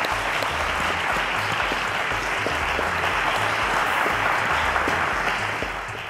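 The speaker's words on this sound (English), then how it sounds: "Ladies and gentlemen, let's give them a round of applause." A studio audience at a televised quiz competition applauds the contestants in a full, sustained wash of clapping that holds steady and eases off slightly at the end.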